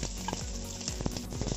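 Onions sautéing in hot coconut oil in a pan for Kerala-style fish pollichathu, a soft steady sizzle with light scraping and stirring clicks, close and alone.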